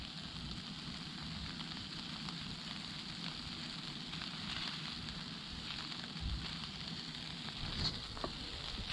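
A campfire burns steadily under a wok, with a continuous soft crackle and hiss at low level and no talking.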